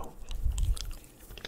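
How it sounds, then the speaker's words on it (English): Close, soft gum chewing with moist mouth clicks and smacking, brief and quiet. "So we're gonna get a little bit of gum chewing"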